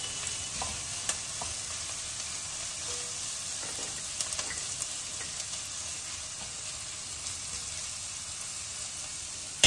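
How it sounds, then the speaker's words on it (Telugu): Coriander seeds roast in a dry pan while making a Telangana-style mutton curry, giving a soft, steady sizzle with occasional scraping clicks of stirring, close and fairly quiet. "పెట్టేసుకొని ధనియాలు వేయించుకోండి"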